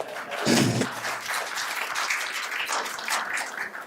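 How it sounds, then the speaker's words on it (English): An audience at a legal talk on cryptocurrency applauds a visiting delegation from Brazil, with a loud burst of clapping and cheering early on, then a steady spread of applause with a few stray calls. "Applause."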